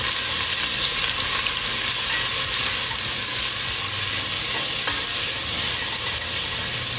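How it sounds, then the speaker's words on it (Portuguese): Homemade garlic and salt seasoning fries in a hot pan in a restaurant kitchen, with a steady loud sizzle and hiss that carries on throughout and a few scraping stirs, no talk. "Tem que deixar dourar o seu alho, tem que deixar a sua panela esquentar"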